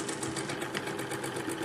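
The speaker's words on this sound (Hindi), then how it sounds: "साथ पकड़ते हुए पूरे में सिलाई लगाने हैं" A sewing machine stitches lace onto a sleeve frill with a steady, close mechanical whirr and quick, regular needle ticks, and no voices.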